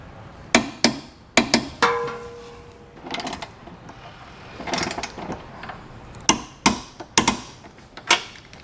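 A torque wrench tightens Curt trailer hitch receiver bolts under a 2022 Honda CR-V, giving sharp separate clicks in small clusters, close and fairly loud, with quieter shuffling between them.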